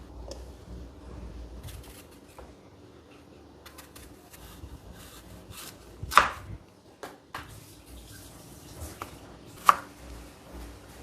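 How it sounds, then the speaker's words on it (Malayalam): Knife chopping an apple into square pieces for a fruit salad, sparse irregular knocks on a board with two sharper, louder strikes standing out against a quiet kitchen background. "ഇതും സ്ക്വയർ പീസസ് ആയിട്ട് അതേ സൈസിൽ കട്ട് ചെയ്തെടുക്കാം കേട്ടോ"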